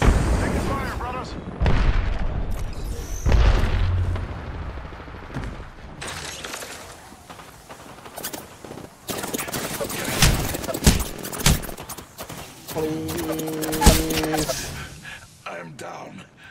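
Gunfire in Overwatch, a team shooter video game: scattered bursts of shots and booming impacts spread through a busy firefight, with people talking over much of it.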